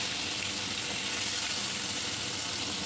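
Cauliflower frying in mustard oil, a dense, steady sizzle of bubbling oil heard close and continuous throughout, with no talking.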